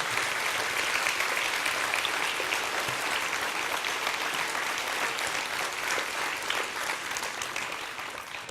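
A hall audience at a 2019 New Year's wishes ceremony for the mayor of Romans-sur-Isère claps in a dense, steady applause that holds at an even level throughout, with no voices over it.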